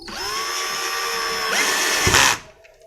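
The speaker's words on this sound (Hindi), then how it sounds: "आप इस वक्त सुराख करते हुए एक दफ़ा फॉरवर्ड चलाएं ड्रिल को" A power drill runs forward while boring a hole, a steady high motor whine that rises in pitch partway through, then winds down and stops near the end; close and loud, with no talking.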